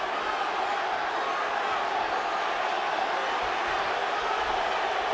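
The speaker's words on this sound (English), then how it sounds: "this crowd is electric" Arena crowd at a Santa Cruz vs Mares boxing fight roaring and cheering continuously, a loud, dense, unbroken wall of noise with no clear pauses.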